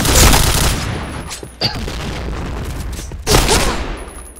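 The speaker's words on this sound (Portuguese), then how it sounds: "Três tiros." Gunfire in an online shooter game: a sustained burst of rapid shots at the start, then two sharp, loud single blasts spaced apart, with a steady game background in between.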